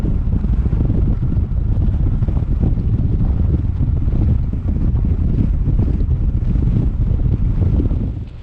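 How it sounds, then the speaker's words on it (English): Strong wind gusts roar steadily across a microphone high on Driesh, a Scottish mountain above Glen Clova in winter, a loud, buffeting low rumble with no voices. "It's pretty windy"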